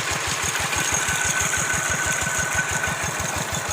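A small water pump engine runs steadily to drain a fish pond at night, its rapid, even low thumping close and continuous with no talk over it.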